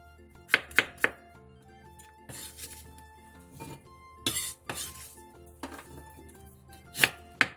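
A knife cuts an apple into slices on a cutting board, giving a few sharp, close knocks and thunks with pauses between them, over a soft background of music.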